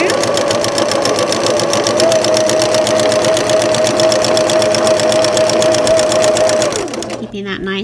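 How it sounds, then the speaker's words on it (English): A sewing machine stitches a quilting seam through pieced fabric, its motor running in a steady, fast, close whir for several seconds before winding down and stopping near the end. "and then I'm going to start sewing my seam"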